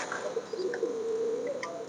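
Blue satin pigeons cooing close by, a soft repeated low coo running through most of the clip over a steady hiss, with a few faint chirps and no talk.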